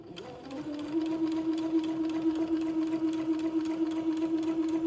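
A sewing machine stitches a few tacking stitches forward and backward to hold a tuck on a baby's day gown, its motor humming steadily and close with a rapid, even needle rhythm throughout.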